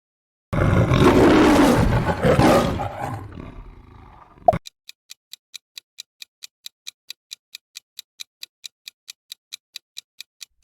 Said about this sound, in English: Can you recognize this one that begins with an unforgettable roar?